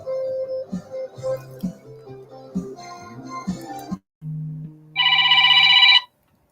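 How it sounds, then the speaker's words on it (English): An alarm reminder rings out: first a run of chiming electronic tones in a plucky melody, then a held two-note tone, and finally a brighter, rapidly pulsing ring lasting about a second before it stops. "That's just our alarm reminder to go to break in a moment."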